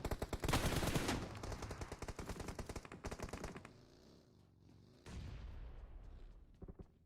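Automatic gunfire from PUBG Mobile rattles in a fast, loud stream of rapid shots, pauses, then a second burst follows, with a few scattered shots at the end.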